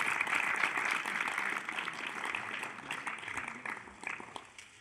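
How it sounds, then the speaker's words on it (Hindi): An audience at a Republic Day ceremony at a Vedic gurukul claps in sustained, dense applause, steady and fairly loud before tapering off toward the end. "जोरदार ताली से स्वागत कीजिए।"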